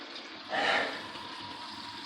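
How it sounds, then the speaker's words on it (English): Water rushing at full blast through freshly repaired household pipes, a steady broadband hiss that swells briefly near the start and then holds constant and fairly close, with no talking. "we'll get the water turned on full blast"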